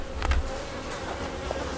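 Honey bees buzz steadily in an open hive during an inspection, a close, continuous drone with a few louder passes of single bees nearby.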